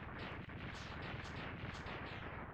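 Dense, continuous explosions and blasts from the Mega Man X3 video game rumble in a steady crackling barrage, fairly quiet and without pause.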